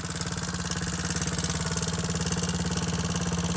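A 1980s dirt bike engine runs steadily close by, a fast even putter with a rough mechanical edge and constant loudness, no voices.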